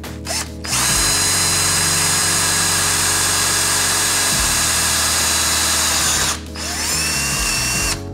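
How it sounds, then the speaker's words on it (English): A power drill whines steadily at high pitch for several seconds, boring a pilot hole through metal, with brief pauses at the start and near the end. "Got the pilot hole drill through"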